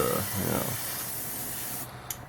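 A spray can or airbrush hisses as black paint is sprayed onto a homemade smoke marker, one steady close hiss that stops near the end, followed by a couple of faint taps.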